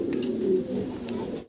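A pair of black Mundian fancy pigeons coo steadily and close by, a low rolling call that carries through the whole short moment with no talk over it.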